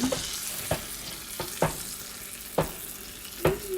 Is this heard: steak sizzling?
yes